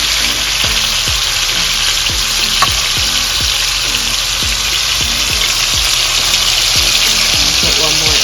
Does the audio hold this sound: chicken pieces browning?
yes